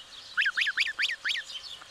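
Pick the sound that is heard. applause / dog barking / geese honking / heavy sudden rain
geese honking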